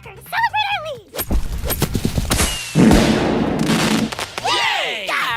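A cartoon firecracker goes off in a BFDI animation: a loud sharp burst and crackling blasts mixed with squeaky cartoon voices and excited chatter.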